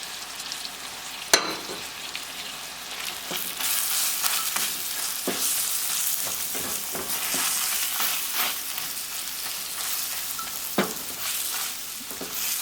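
Cilantro and spices sizzling in a hot pan while being mixed, with a steady crackling fry broken by sharp spatula scrapes and knocks against the pan, and no talking.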